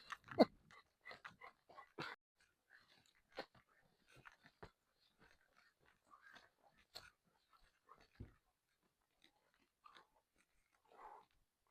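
A dog chews and gnaws close by, making scattered wet bites and crunches, soft snuffles and an occasional low grunt, all quiet with gaps between them.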